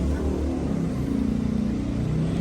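A 2016 Fiat 1.2 Lounge idles with a low, steady exhaust rumble and slight pulsing, moderately loud and close, with no talk over it.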